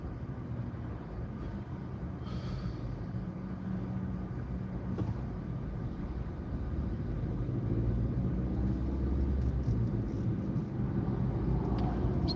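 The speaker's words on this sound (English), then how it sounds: "There's got to be a traffic jam for at least 3 miles." Cars sit in a traffic jam stretching for miles, producing a steady low rumble of idling engines that swells slightly louder midway, heard from inside a vehicle with no talking.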